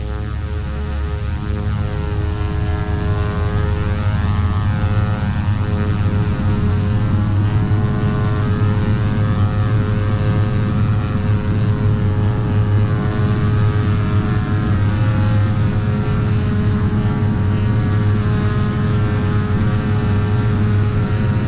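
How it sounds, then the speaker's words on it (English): A Fokker F27 Friendship turboprop airliner on its takeoff run in Flight Simulator X, with the engines' loud, steady propeller drone and hum droning on without a break, layered with high whining tones and no talking. "Let's listen to this takeoff run."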